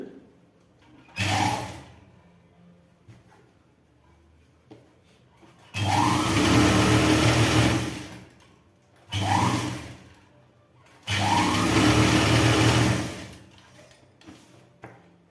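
A sewing machine stitches cloth for a trouser pocket, running in four loud bursts of rapid whirring, two short and two longer, with quiet gaps between them.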